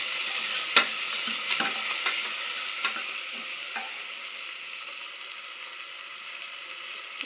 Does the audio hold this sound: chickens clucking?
no